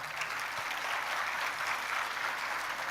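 An audience applauds a speaker steadily for a few seconds, a dense, even wash of applause with no voices standing out.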